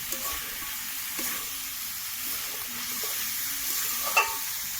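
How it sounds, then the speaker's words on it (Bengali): Tiny fresh Ganges river fish and fenugreek fried in a pan give off a steady, soft sizzle, with a few scraping stirs of the spoon rising above it. "মেথি চুনোগুলো আমি ঢেলে দেওয়া হলো। দিয়ে ভালো করে নেড়ে চেড়ে আমি"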